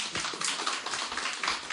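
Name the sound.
audience clapping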